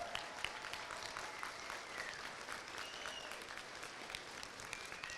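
A graduation ceremony audience claps in a dense, sustained wash of applause that stays steady and fairly distant the whole time.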